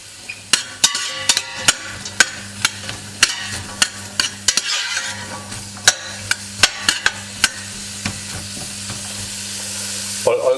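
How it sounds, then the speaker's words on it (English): Chopped onions and garlic sizzle in a pot, punctuated by a series of sharp, irregular clacks from a utensil stirring against the pot, close and clear with no talking. "And then we saute on our onions and garlic"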